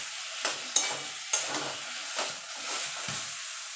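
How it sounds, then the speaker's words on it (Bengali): Taro greens stirred in a frying pan with a little sugar, a soft steady sizzle broken by several sharp scraping and clinking strokes of the spatula against the pan, close and fairly quiet, with no voices. "এবার এটাকে ভালো করে একটু নেড়ে চেড়ে নেব।"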